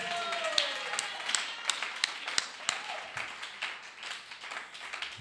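A church congregation applauds during a French-language service, with scattered, uneven hand claps and sharp taps running steadily throughout, mixed with voices in the room.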